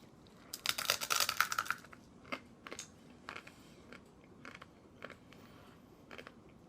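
Raw, uncooked ramen noodles crunch and crackle between the teeth close up: a dense burst of brittle snapping early on, then a string of separate, sharper bites spaced out over the following seconds.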